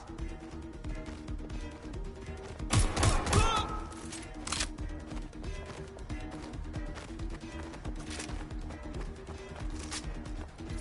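Enemy gunfire in the Watch Dogs: Legion game, with scattered sharp shots and one dense burst of fire near the start, fairly faint under music and other game noise.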